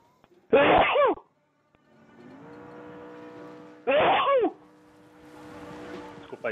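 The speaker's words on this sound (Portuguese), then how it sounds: "Desculpa aí pelo espirro" A sneeze bursts out twice, loud and close, each a short explosive blast, with the hum of a car engine from a Far Cry New Dawn race running quietly between them.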